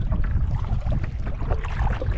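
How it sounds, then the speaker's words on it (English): Strong wind roars and buffets the microphone in heavy, continuous low gusts, loud and close, with no talking. "It's too windy to bother fishing here."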